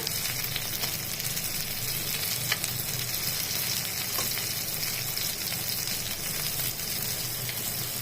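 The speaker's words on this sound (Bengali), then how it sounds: "আমি সব মাছগুলো ভেজে একবারে দেখাচ্ছি" Puti fish frying in hot oil, a dense, steady sizzle and crackle that stays loud and even from start to finish, with a few faint stirring clicks and no talk.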